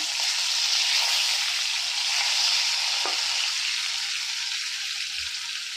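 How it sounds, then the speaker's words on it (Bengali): Hilsa fish pieces fry in hot oil, a steady dense crackling sizzle filling the whole stretch with one faint clink partway through, no voices. "বন্ধুরা আমার ইলিশ ভাজা হালকা হালকা করে হয়ে গেল প্রায়।"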